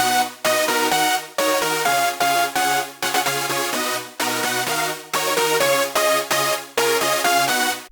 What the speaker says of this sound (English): They're very, very basic at the moment, but with the Supersaw they sound like this.